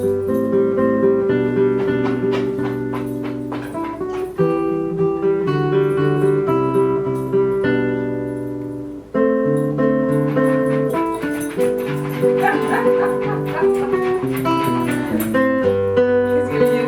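Nylon-string classical guitar played fingerstyle, with plucked notes and ringing chords in a gentle, continuous melodic pattern, heard close and clear with no voices over it.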